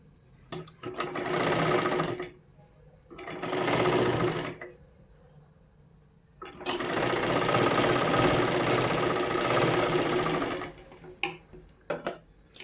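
A sewing machine stitches fabric for a katori blouse in three bursts, two short runs of a couple of seconds each and then a longer four-second run, with a steady whirring rattle and quiet pauses between.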